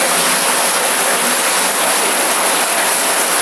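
Loud, steady rush of water flowing through an underground sewer collector in Moscow fills the space, a continuous roaring wash with no voices.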